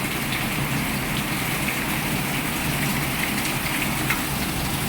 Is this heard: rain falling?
yes